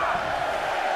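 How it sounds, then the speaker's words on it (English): Arena crowd at a 2010 WWE Royal Rumble match roaring and chanting in a steady, dense wall of voices, loud and continuous throughout, as if counting down the next entrant. "Listen to this crowd count the next one in."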